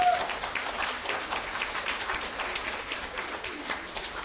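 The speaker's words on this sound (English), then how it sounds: "And also a big round of applause to our choir" Applause from a church audience for a choir at a Christmas cantata, dense steady clapping from a crowd that carries on without a break.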